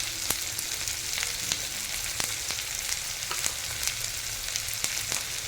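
Spices sizzling with giant freshwater prawns in a pan for a spicy prawn curry, a steady close-up crackle of frying punctuated by sharp clicks and pops, with no voices.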